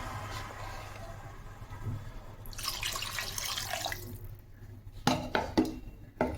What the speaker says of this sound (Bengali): মশলার বাটি ধুয়ে জল অ্যাড করে দিলাম